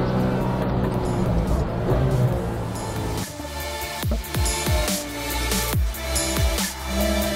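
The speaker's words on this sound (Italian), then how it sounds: "è veramente una goduria sentire il motore cantare così." Porsche 911 GT3 with a six-speed manual driven on track, engine climbing through revs with several quick upshifts marked by sharp dips and rises in pitch, loud and close without talk.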